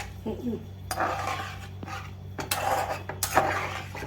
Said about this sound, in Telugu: అరటికాయ ఇందులో వేసి వేయించుకోవాలి సిమ్లో పెట్టుకొని వేయించుకున్నామంటే చాలా బాగుంటుంది